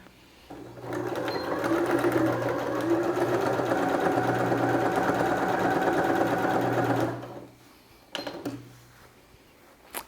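A sewing machine runs a steady straight stitch for about six seconds while a necessaire lining is sewn, loud and close with a constant motor hum, then stops, followed by a couple of brief clicks.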